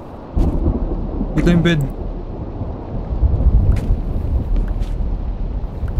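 Rain and thunder during a storm in the video game Minecraft, a steady rumble with rolling low thunder swelling midway, while a voice speaks briefly over it.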